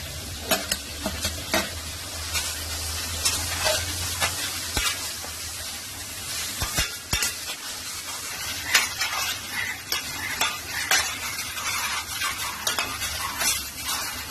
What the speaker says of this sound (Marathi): टोमॅटो आपलं चांगले नरम होईपर्यंत परतायचं आहे.